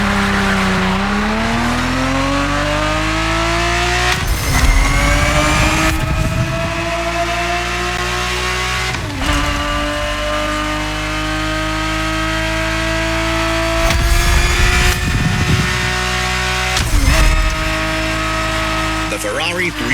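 A Ferrari 365 GTB4 in The Crew Motorfest, its engine droning loudly and steadily as it climbs through the gears, with pitch dropping at each upshift, a few sharp revving surges, and possible brief tire squeal.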